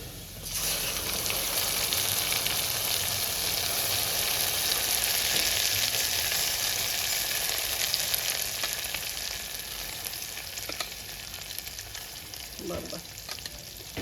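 Onions and dal frying in a pan for Andhra-style dondakaya pappu give a steady, close, loud sizzle throughout, with occasional stirring clicks and a faint scrape near the end.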